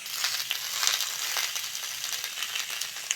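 Beans and potatoes frying with turmeric, salt and chilli powder, a soft, continuous sizzle with faint crackles and light stirring scrapes, close but fairly quiet.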